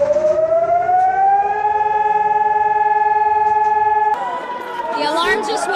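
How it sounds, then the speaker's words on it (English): Civil defense air-raid siren wailing loud and steady for about four seconds during an alert in Israel, then cutting to a rising, jumbled mix of siren tone and voices as people head for cover. "The alarm just went off."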